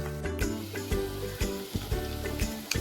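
Cut green chillies hit hot oil in a pan while carrot rice is being made. They give off a steady sizzle with a few sharp clinks and stirring scrapes, and faint background music plays underneath.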